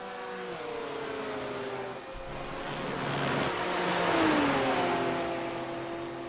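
GT3 race cars lap the Algarve circuit in a racing game, engines droning and shifting pitch as they run nose to tail through a turn and swell louder onto the straight.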